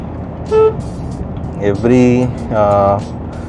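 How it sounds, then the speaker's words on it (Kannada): Several short car horn toots sound close by from inside a car at a corner, one brief honk followed by two longer blasts, over steady road noise. "ನಿಮಗೆ ಕಾರ್ನರಲ್ಲಿ ಹಾರ್ನ್ ಹೊಡೆಯೋದು ಇಟ್ಸ್ ಅಡ್ವೈಸಬಲ್ ಜನರಲಿ"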